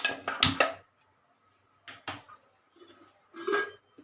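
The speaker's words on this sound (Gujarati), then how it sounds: "આપણે એક પેન લઈશું અને ગેસ ઓન કરી લઈશું" Metal pan clanks and scrapes being set onto a gas stove burner while cooking sprouted mung bean curry, a few short distinct knocks separated by quiet gaps.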